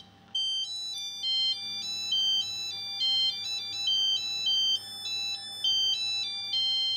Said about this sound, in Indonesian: Ini nada deringnya saya pakai ya.